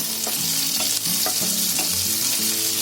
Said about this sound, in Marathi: आता बघा कांदा शिमला मिरची मस्त फ्राय झाले